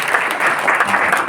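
A church congregation breaks into brief, close, dense clapping that holds steady for a moment.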